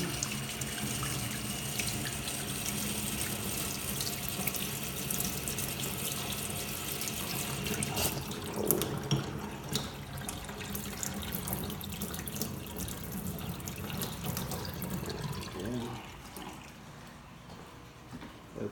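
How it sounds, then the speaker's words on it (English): Hot water gushes steadily from a household tap during plumbing valve work, a continuous close splashing rush that holds throughout and eases slightly toward the end. "Turn on hot water."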